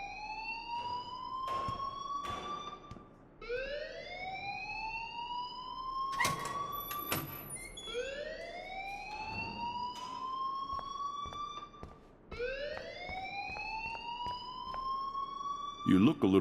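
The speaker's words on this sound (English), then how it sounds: "please turn off that alarm since that's your job" A school alarm in the game Life is Strange wails in repeated rising sweeps, each climbing then holding before cutting off and starting again, loud and insistent throughout, with people talking over it.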